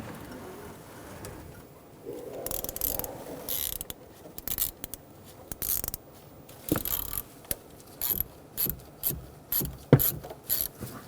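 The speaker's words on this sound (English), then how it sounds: "Get the bolt started and snug it down" A hand ratchet snugs down the mounting bolt of a VVT solenoid on a 2.7L four-cylinder Toyota Tacoma engine, producing short bursts of quick clicking pawl strokes separated by pauses, close and fairly crisp.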